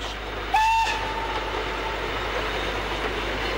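Polish-built class 262 steam passenger locomotive sounding a short, clear whistle blast lasting under half a second, heard above a steady low rumble of the train.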